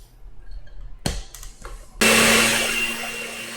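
Blender whirring through bananas and milk for banana bread: after a few knocks and clatters, the motor kicks in abruptly, loud and close, then settles into a steady high whine that fades slightly.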